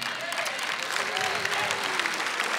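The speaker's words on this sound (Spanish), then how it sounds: "Dale un aplauso." A church audience at a sermon by a bishop breaks into steady, dense applause that keeps going at an even level for the whole stretch, with a faint tonal hum from voices or music beneath it.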